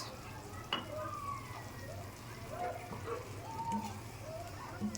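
Spices sautéing in a little oil with capsicum, a soft steady sizzle with occasional scrape and stir noises, moderately quiet throughout.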